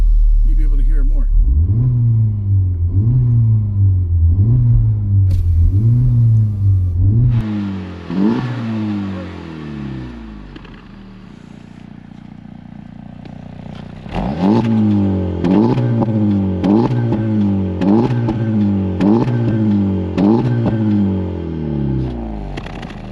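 A Honda Civic Type R FL5 with an RV6 downpipe accelerates through several gears with the windows down, loud rising engine sweeps broken by shifts and a quieter stretch near the middle, with a voice talking at times.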